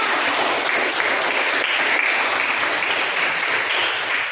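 Dense, steady applause from an audience at an academic presentation, loud and continuous throughout without talk.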